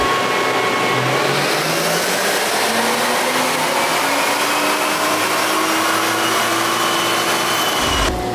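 Nissan Skyline R34 pulling a long run on a dyno in third gear, a loud engine note climbing steadily in pitch for about eight seconds before abruptly cutting off near the end.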